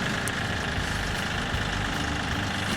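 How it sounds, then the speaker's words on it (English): Farm tractor idling on a 10-acre property while a finishing mower is attached, a steady low rumbling drone that holds constant throughout with no voices. "Now he's getting the finishing mower and putting it onto the tractor."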